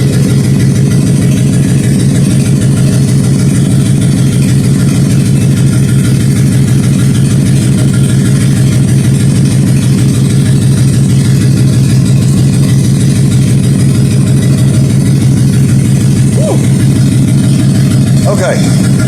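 Inside a shop, a 1956 Ford F100 truck engine idles with a loud, constant low rumble that holds an even beat from start to finish.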